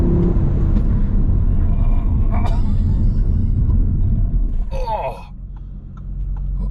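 Audi RS 3 Performance fitted with carbon ceramic brakes pulls up hard on a winding road: steady loud engine and road rumble, a brief squealing burst near the end as the car sheds speed, then a quieter idle.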